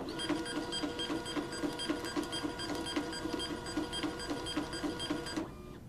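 A PC43d desktop label printer runs a batch of about twenty 2-inch square labels at full speed. It makes a fast, steady mechanical chatter with rhythmic clicking that stops abruptly just before the end.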